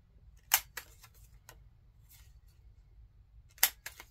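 A Creative Memories 2-way corner rounder punches paper corners, giving two sharp, crisp clicks with quieter snips between them, close and isolated in a quiet room.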